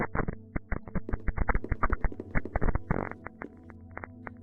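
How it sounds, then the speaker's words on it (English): In a video game, a Geiger counter gives off rapid irregular clicks and blips, loud and close, in uneven bursts that speed up into a dense crackle before thinning out again, with no voices. "The Geiger counter started to beep."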